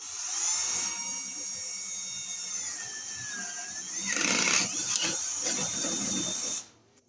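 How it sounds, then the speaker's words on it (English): A power drill bores a hole for exit light wiring, giving a steady high-pitched motor whine that swells into a louder grinding burst midway before cutting off abruptly. "Now I'll drill our hole to bring our wires through into the fixture"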